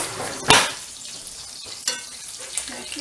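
Sausage sizzles steadily in a pan during a breakfast of eggs, sausage and grits, a constant close frying hiss broken by a few louder scrapes and stirring clatters as a fork turns the links.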